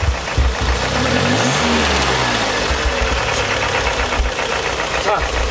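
Hyundai NF Sonata engine idling with a rattling noise, a steady mid-pitched hum up close with a brief pitch sweep as it is revved, while someone talks over it.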